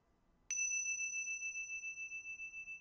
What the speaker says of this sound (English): we're noticing the sound of the bell